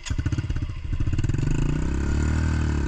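An off-road motorcycle on a forest trail putters at low revs, then the engine note swells smoothly as throttle is eased on gently, close by and steady.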